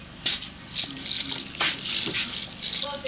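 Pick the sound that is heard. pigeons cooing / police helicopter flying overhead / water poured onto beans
water poured onto beans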